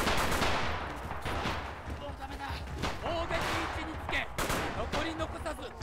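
Type 100 submachine gun fire in the World War II shooter Rising Storm, a dense crackle of rapid automatic bursts and overlapping battle gunfire running continuously, loud and close, with voices audible in the mix.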